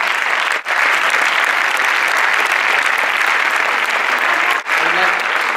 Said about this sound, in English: make a big applause to Anna Boccadamo, our grandmother.